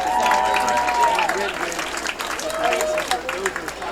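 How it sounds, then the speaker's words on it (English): Crowd applause at a high school Friday night football game, honoring a head coach, loud and sustained for about four seconds, with a PA announcer's voice carrying over the clapping and a tonal whine in the mix. "let's have a big round of applause for head coach of that 25-year team, Steve Hurst"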